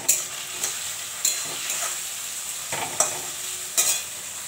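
Potatoes sizzle steadily in a hot pan while a spatula stirs and scrapes them, giving sharp clacks about once a second over the constant frying hiss, close and fairly loud.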